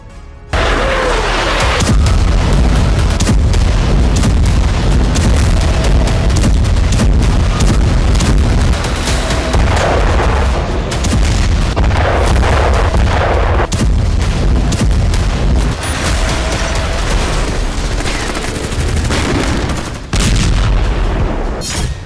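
Gunfire inside Al-Quds hospital in Gaza, a dense, loud barrage of booming shots and bursts that goes on almost without a break for about twenty seconds, with heavy echoing rumble.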